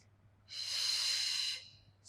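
A single long exhale during a stretching exercise routine, a soft airy rush lasting about a second that fades out, with the start of another breath at the end.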